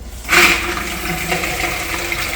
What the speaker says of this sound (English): So we're going to fill it with water.